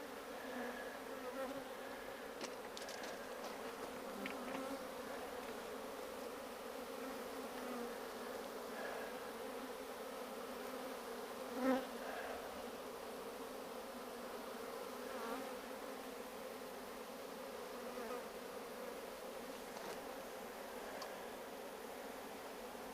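Bees buzz inside a beehive during a hive check, a dense, continuous droning hum from many insects at close range, with a faint occasional rustle and no talking.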